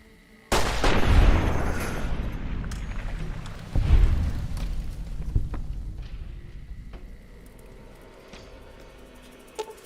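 Gunfire in Fallout: New Vegas: two loud, booming shots about three seconds apart, each with a long rumbling tail, then fainter scattered pops and rumble fading out.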